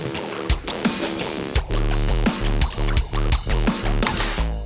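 A plop synth designed to mimic a fish flopping out of water, with wet, bubbly plops and pitched tones repeating in a bouncy, irregular rhythm, loud and close with no talking.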